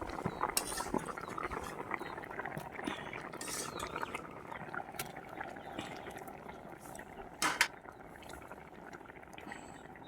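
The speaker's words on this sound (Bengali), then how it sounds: "এবারে মাছগুলো দিয়ে দিচ্ছি।" Small morla fish are dropped into a boiling village-style curry with eggplant and radish, a close bubbling, clattering simmer with a louder splash and clink partway through, and no talking over it.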